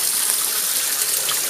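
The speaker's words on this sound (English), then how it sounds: "I'm on third rinse here." Water gushing and splashing steadily at close range while laundry is rinsed by hand in a tub, a loud continuous wash of sound with no voices.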